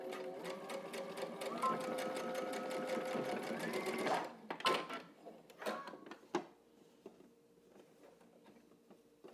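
A sewing machine stitches across pleated pants in a fast, even run of needle strikes for about four seconds, then a few scattered clicks and knocks as the fabric is handled, fairly close and moderately quiet.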